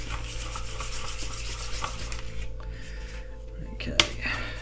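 Rubbing weathering into a 1/35 Bandai M61A5 main battle tank model by hand, giving a soft continuous scuffing and rasping close to the mic over a low steady hum, with one sharp tap near the end.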